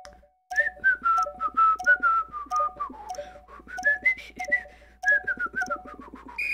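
A person whistles a wavering, halting melody of short clipped notes while playing a Wii Balance Board walking game, close and clear over faint game beeps, with no talk.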